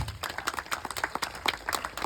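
An outdoor audience at a park picnic event claps together in a fairly steady, rhythmic patter, moderately loud and close throughout.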